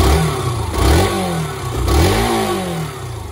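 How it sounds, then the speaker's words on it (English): A 2013 Yamaha YBR125 Custom motorcycle engine catches on the electric starter and revs twice, the pitch sweeping up and falling back each time over a steady close-up idle, with no voices. "Starts on the button. Sounds very, very, very nice indeed. Very smooth engine."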